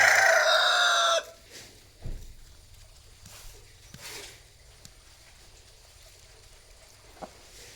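A nine-to-ten-month-old rooster crows loudly and close for about a second, followed by quieter outdoor background with a few faint knocks and soft sounds.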